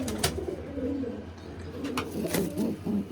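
A pigeon coos close by, a few soft low throaty calls over faint background noise.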